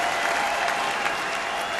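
Dense, sustained applause from a large convention crowd during Hillary Clinton's Democratic National Convention speech, a loud continuous roar of clapping.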